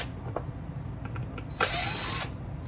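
Power driver backing small screws out of a Restorer tool housing, a low motor whir with faint clicks, then a brief higher-pitched whine from the spinning bit, close up without talk.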